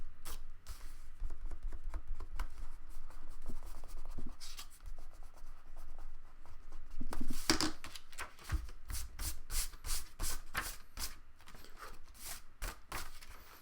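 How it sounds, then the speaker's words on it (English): An eraser rubs out pencil marks on journal paper in quick, close, scratchy back-and-forth strokes, ending in a burst of brisk rapid rubbing. "I find I can take my eraser and get rid of those pencil marks"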